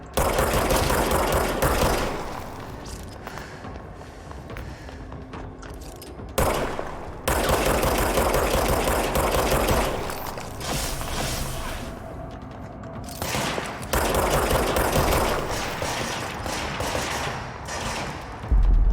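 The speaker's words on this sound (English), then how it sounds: "Hear gunfire." Rapid bursts of automatic gunfire crackle in long volleys separated by short pauses, dense and sustained, sounding like close-range machine gun fire repeated across the scene.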